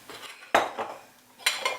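A knife scrapes and clinks against a bowl while molasses batter is mixed, two sharp clattering strokes with softer scraping between them, close and fairly loud with no talk.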